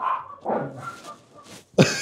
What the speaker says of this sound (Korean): 이 친구는 저를 보면 자꾸 짖어가지고